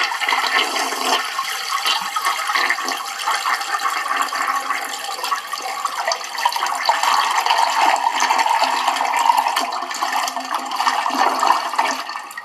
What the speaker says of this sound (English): The video is toilet flush sound effect in high quality.